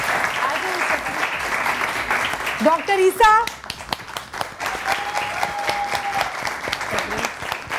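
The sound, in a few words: studio audience applause welcoming experts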